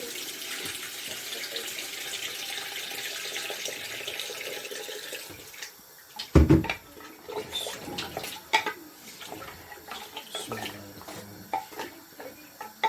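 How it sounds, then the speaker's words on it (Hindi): Water poured into a pot of mutton bones for soup: a steady running stream of water at first, then clanks and splashes as the pot is handled, close by with no talking. "तो अब हम इसमें 2 लीटर पानी ऐड करते हैं।"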